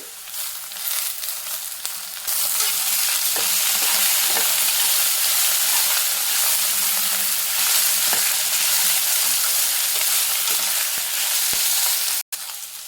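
Ginger garlic paste fries in hot oil, a loud, steady close-up sizzle that swells after a couple of seconds and holds with occasional soft stirring scrapes, then cuts off abruptly near the end.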